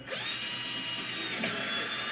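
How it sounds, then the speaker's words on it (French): An electric drill bores into a garden planter pot, giving a loud, steady whining drone close up, with slight shifts in pitch as the bit bites into the material. "faut faire attention parce que quand elle finit de mordre, ça se peut que votre perceuse entraîne le pot"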